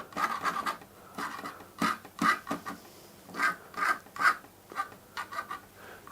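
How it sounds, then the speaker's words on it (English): Acrylic paint being scratched and scraped on a fox portrait painting, with short rasping strokes in irregular bursts, close and fairly quiet, with brief pauses between them. "At this stage I'll start to scratch and scrape"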